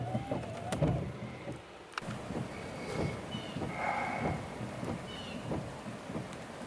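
Rain falls steadily on a car during a January flood, a dense close patter with rumbling gusts and wiper thumps, continuous throughout with no talking.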